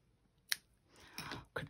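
A few small snips of scissors cutting stitching strands, close and quiet, three brief crisp clips spaced apart with near silence between.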